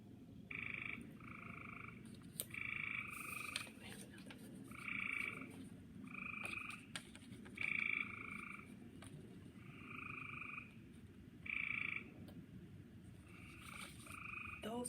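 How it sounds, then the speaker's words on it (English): Frogs croak at a lake in a field recording, repeated bursts of bright, buzzy trilling calls answering one another over a faint steady background hum. "Those are frogs communicating, talking back and forth with each other."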